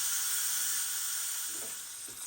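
A pressure cooker cooking oxtail lets off steam after the gas is turned off. A steady, close, bright hiss holds throughout and eases slightly toward the end.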